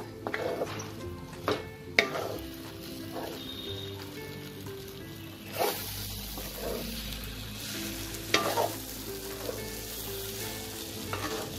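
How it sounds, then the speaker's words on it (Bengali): Lentil dough mixture being stirred in a pan, a quiet continuous frying hiss with scattered scrapes and knocks of a spoon against the pan at irregular intervals, no talking. "এটাকে আমি খুব ভালো করে আমি নাড়াচাড়া করব"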